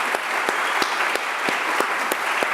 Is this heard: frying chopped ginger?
no